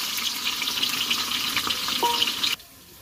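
Onion drops into hot oil with bay leaf and sizzles loudly and steadily up close, then cuts off abruptly near the end.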